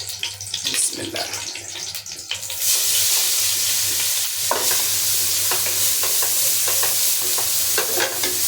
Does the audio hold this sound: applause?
no